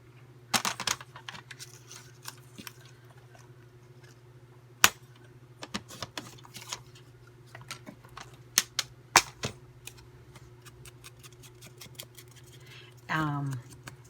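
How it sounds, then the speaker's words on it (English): Craft paper being cut for a Christmas mini album, heard as sparse sharp snips and clicks over a steady low hum, ending in a brief louder slicing swish. "So why don't I just cut it 5 inches?"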